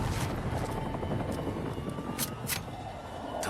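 A helicopter in a Modern Warfare (2019) video game cutscene, its loud rotor and engine roar filling the scene continuously with a few sharp bursts of effects layered on top.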